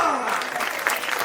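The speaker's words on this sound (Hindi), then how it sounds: "भाई साहब जिस हिसाब से ताली बजा रहे हो तो रहने दो" An audience at a Hindi poetry recital (kavi sammelan) claps in a brief, dense burst of applause, with a voice briefly heard at the start.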